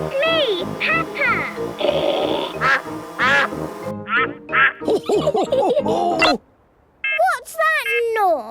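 A cartoon duck character from Peppa Pig quacks repeatedly in bright, close, animated bursts, interleaved with children's and adults' cartoon voices and a short silent gap near the end.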